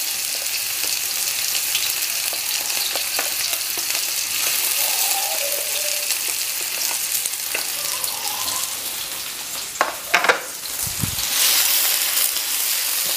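Onion and garlic stir-frying in a little oil for bihon noodles, a loud continuous sizzle close by with scattered scrapes and clatters of a utensil against the pan.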